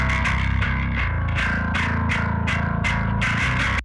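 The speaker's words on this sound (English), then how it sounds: "here we add the distortion, the amount of distortion, and here we can mix the overtones" Distortion plugin processing a rhythmic synth or instrument part with added overtones, giving a loud, gritty, buzzy tone with repeated sharp attacks at a steady pulse, played alone.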